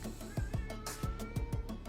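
A pet cat meows in the next room, a few short calls scattered through the clip, faint and somewhat distant over a steady background hum.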